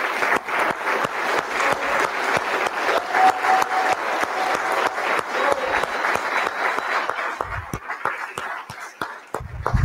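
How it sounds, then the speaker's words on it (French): Audience applauding young writers at a municipal council presentation, brisk sustained clapping from a modest crowd with distinct individual claps, thinning out toward the end with a few low sounds. "pour qu'on puisse vous applaudir tous et chacun"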